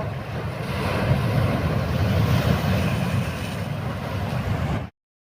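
Sea waves crash steadily on a shore along the Odisha coast, a loud continuous rushing wash with wind noise on the microphone, then cut off abruptly near the end.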